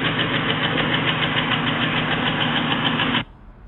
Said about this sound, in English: Sounds just like it's got a nasty tick.